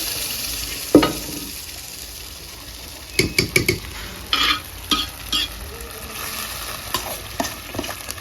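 Hot tempering for Punjabi sarson ka saag on a country stove sizzles steadily while a spoon scrapes and knocks against the pot in quick bursts, fairly close, with no talking.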